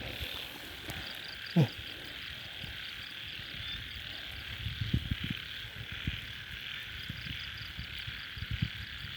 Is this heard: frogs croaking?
yes